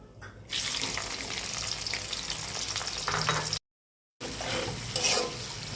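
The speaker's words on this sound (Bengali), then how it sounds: "তেজপাতা এলাচ দারচিনি লবঙ্গ এগুলো আমি দিয়ে দিলাম এখন তেলে একটু নাড়াচাড়া করতেছি" Bay leaf, cardamom, cinnamon and cloves are stirred in hot oil, making a loud, steady sizzle with stirring scrapes that drops out briefly before resuming.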